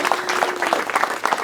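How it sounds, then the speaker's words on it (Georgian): Audience in a bar applauding at an acapella battle, a short burst of dense clapping, loud and close, with a few crowd voices mixed in. "ერთი კარგი ოვაციები ამისთვის"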